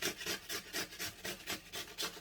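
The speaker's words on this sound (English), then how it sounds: "we're just going to grate this cucumber." Cucumber rubbed down the coarse side of a grater for tzatziki, a steady rhythm of about nine rasping strokes, close and fairly quiet with no talk.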